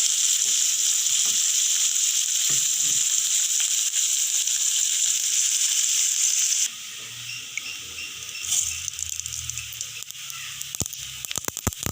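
Curry leaves, chili and champa fry in hot oil for a Sri Lankan egg fruit curry, a loud steady sizzle that drops to a quieter crackle with occasional stirring clinks.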